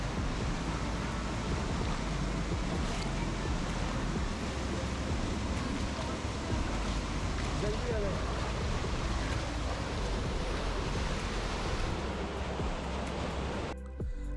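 Small waterfall at Bangoru Waterfall near Bir Billing, a steady broadband rush of falling water that stays loud and constant throughout, with a brief dip at the very end.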